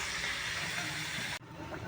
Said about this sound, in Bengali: এবার ম্যারিনেট করা চিকেনটা দিয়ে দেব